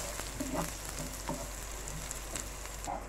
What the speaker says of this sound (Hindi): हम हल्की हल्की सी प्याज जो है ये फ्राई करेंगे।